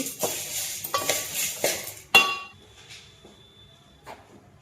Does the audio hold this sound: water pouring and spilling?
no